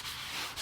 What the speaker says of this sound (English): you take a sanding sponge and you go to the edge and you just really gently